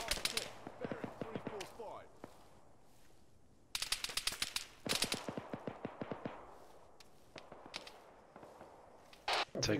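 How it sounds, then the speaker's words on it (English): Gunfire rings out from an enemy base in the military shooter ARMA 3, with several bursts of rapid automatic shots at mid distance and a few sharper single cracks, while people talk over the radio. "Shots coming from the base."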